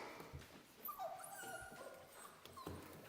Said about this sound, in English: And here are the older puppies